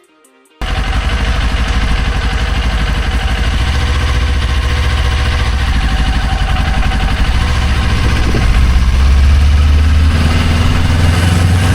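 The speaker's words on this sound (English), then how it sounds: "After the bikes start to go, you give it a little gas and then you let it out." A clutch motorcycle (ADLCC 400 training bike) engine starts and runs loud and close, a steady throbbing idle that rises in pitch as throttle is given near the end.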